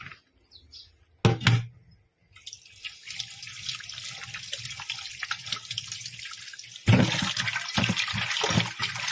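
Water pours and splashes while Bhutai (Tharli) fish are cleaned for a fish curry. A brief splash comes early, then a steady running-water hiss builds and turns louder and fuller near the end, with no voices.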